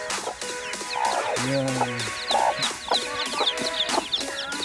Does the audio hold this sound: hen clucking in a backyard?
yes